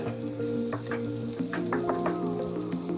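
Hyacinth bean pods cook dry in a pan with crushed peanut powder as they're stirred, a close sizzle broken by a few scraping strokes, with steady tonal hum in the background.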